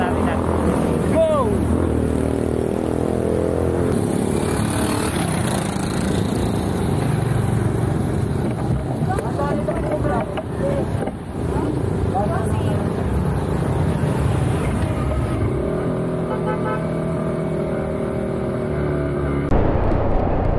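Five motorcycles rev and pull away together on a mountain road at Marilaque, their engines a loud, continuous roar that holds steady, with brief voices over the top.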